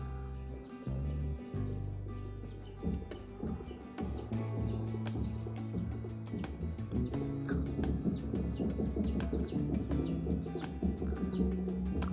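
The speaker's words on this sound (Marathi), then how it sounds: "मस्त पक्ष्यांचा आवाज येतो साईडनी." Small birds chirping and tweeting around a village on a sunny late morning, repeated short calls near and far over a soft ambient background.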